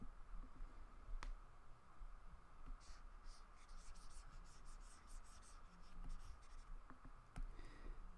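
A pencil scratches and rubs across paper up close, short strokes and a burst of quick hatching marks over a faint background hum.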